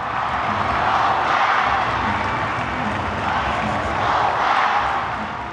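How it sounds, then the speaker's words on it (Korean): A baseball crowd roars and cheers after Son Ah-seop's record-breaking hit for the most career hits in Korean pro baseball, a steady swelling wall of cheering in a large stadium, with a voice talking over it. "지켜보던 관중들이 오빠 멋지다를 외치고"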